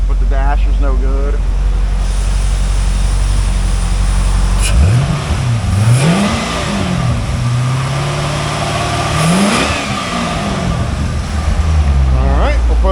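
The 75,000-mile LS3 V8 of a 2011 Chevrolet Corvette C6 Grand Sport with automatic transmission runs at idle with a deep steady rumble, dipping and rising as it is shifted into gear, while someone talks over it.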